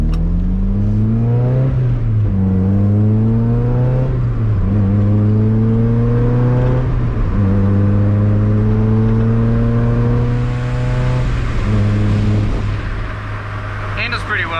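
A Mazda Miata NA with a Tomei 2-way LSD is driven hard from inside the cabin, its engine droning and repeatedly revving up and down through gears while loose trim rattles constantly beneath the steady engine note.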